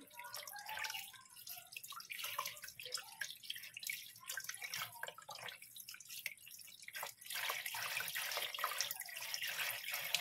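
Beef ribs rinsed under a running kitchen tap, a steady trickle and splash of water with dripping, growing fuller and louder toward the end, no talking.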